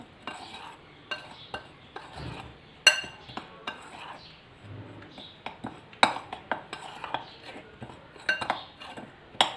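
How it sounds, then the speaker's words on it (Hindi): A utensil stirs and mixes ingredients in a bowl for crispy chicken popcorn batter, making repeated light clinks and scrapes against the bowl in an irregular rhythm, close and fairly quiet. "चलें इन सब चीज़ों को एक बोल के अंदर डाल लेते हैं और इनको मिक्स कर लेते हैं।"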